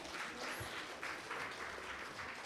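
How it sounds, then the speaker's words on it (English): Audience applause at a panel discussion during an education summit in Bengaluru, a steady wash of clapping from a crowd lasting throughout, fairly soft and even. "Can we have a big round of applause,"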